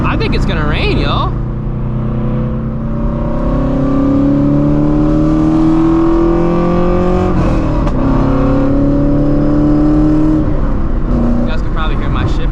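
A straight-piped Shelby GT350 drones loudly and steadily from inside the cabin on a highway, its exhaust holding a rising and falling tone, with the engine climbing in pitch around a shift.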